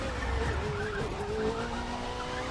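Formula 1 Alpha GP open-wheel race car in The Crew 2, its engine droning steadily and close with a high whining pitch that rises and shifts, and tires squealing throughout.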